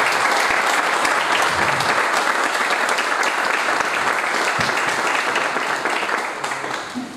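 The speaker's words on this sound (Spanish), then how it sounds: "Un aplauso para él, por favor." Audience applause for a commercial manager at a corporate event, dense sustained clapping from a large crowd filling the room, steady and loud before fading toward the end.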